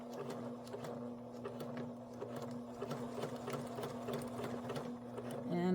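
A sewing machine stitches machine-sewn wrap-around binding on a quilt, its needle tapping in rapid, uneven bursts with a steady motor hum, close and moderately quiet, picking up briefly at the end.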